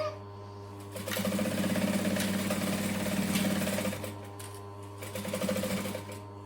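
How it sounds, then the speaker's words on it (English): A sewing machine stitching around a flap in one continuous run, a close, fast rhythmic whirr that rises in bursts with a short pause before picking up again. "So we're going to go onto the flap and all the way around front to back in one nice smooth motion."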